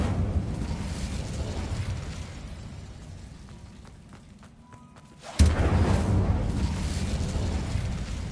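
Incendio fire spell cast in Hogwarts Mystery: a rumbling ambience fades down into near quiet with faint tones, then a sudden loud burst of flame erupts and keeps roaring.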